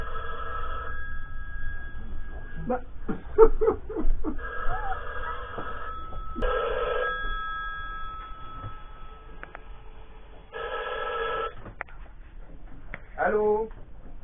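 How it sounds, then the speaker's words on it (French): A telephone rings in repeated bursts across the clip, each a bright electronic trill a few seconds long with pauses between, while someone speaks briefly nearby in a room. "c'est le téléphone là-bas, non?"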